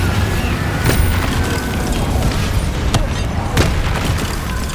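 A Confringo spell in Hogwarts Legacy, a loud, continuous rumbling blast with crackling debris, a few sharp cracks and mechanical rattles inside the roar.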